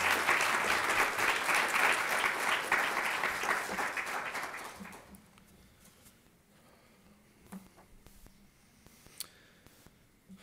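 An audience at Boston College applauds to welcome lecturer Rabbi Daniel Lehmann, dense clapping filling the room for about five seconds before fading to scattered claps and quiet room noise with small rustles and clicks.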